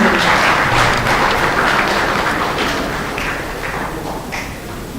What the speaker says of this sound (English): Your clapping resembled more of a dismiss clap than an applause.